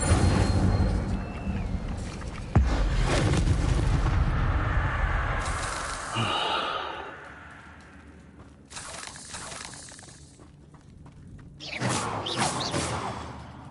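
Incendio fire spell cast in the video game Hogwarts Legacy, a loud booming whoosh of flame with a sharp crack near the start, rumbling bursts that fade and then flare again near the end.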